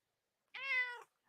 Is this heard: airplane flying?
no